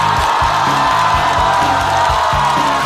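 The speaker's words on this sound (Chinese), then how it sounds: "掌声欢迎范志毅" A studio audience on a Chinese stand-up comedy variety show greets comedian Fan Zhiyi with loud, continuous cheering and whooping over steady applause, dense and close, with low thumping beats from stage music pulsing underneath.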